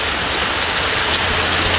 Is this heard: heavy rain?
yes